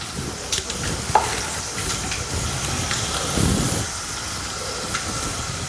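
Peanuts frying in oil for pulihora, a continuous crackling sizzle with scraping spoon strokes as they are stirred, close, no talking.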